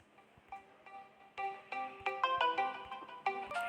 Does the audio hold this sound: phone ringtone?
yes